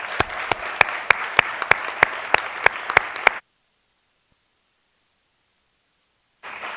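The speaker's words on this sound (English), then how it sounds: "let's give all of our inductees a final round of applause this evening." An audience at an academic induction ceremony claps in steady, evenly spaced beats for about three seconds, then falls abruptly silent before a faint hum of the room returns.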